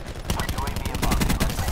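Gunfire from a video game gun, with rapid continuous bursts of sharp shots that come close and loud like automatic spraying, fast and dense throughout.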